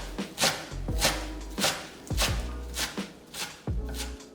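A kitchen knife julienning 70 g of perilla leaves on a cutting board, in sharp, close, evenly paced chops, about eight strokes with short pauses between them.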